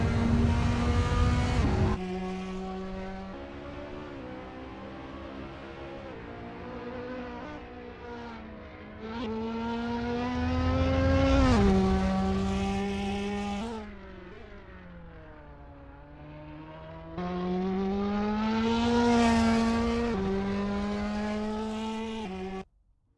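Ferrari 458 and other GT3 race cars in Assetto Corsa, a loud, steady engine drone climbing in pitch through the gears with brief drops at shifts, sustained for the whole stretch with no talk.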